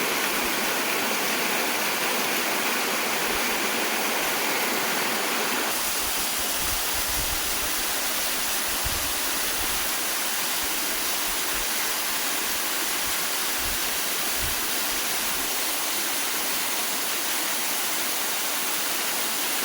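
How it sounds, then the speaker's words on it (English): A series of cascading falls at the end of a trek roars with dense, steady, broadband rushing water, loud and close, continuing unbroken throughout. "Kind of a beautiful series of cascading falls."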